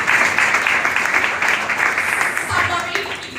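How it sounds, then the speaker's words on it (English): Audience applause at a Trim and Fit wellness session, dense continuous clapping from a crowd filling the whole stretch and tapering slightly at the end. "give a round of applause to this 6S quality"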